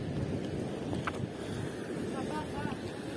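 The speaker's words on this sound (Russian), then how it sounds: "Вот и море. Что-то как сильно шумит сегодня оно у нас." Wind-driven sea surf roars steadily along a shore with a pier on a blustery day, constant broadband rush with gusty microphone wind and faint voices nearby.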